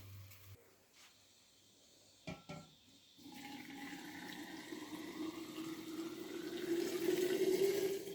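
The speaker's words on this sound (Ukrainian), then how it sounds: "І заливаємо ось таким окропом наші вишні." Boiling water with sugar is poured into a jar of cherries, a soft steady gush that begins after a few faint knocks and swells gradually, close by and fairly quiet.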